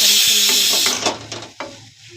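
Food frying loudly in a pan, a bright steady sizzle that fades after about a second, with a few stirring scrapes and clicks near the end and no talk.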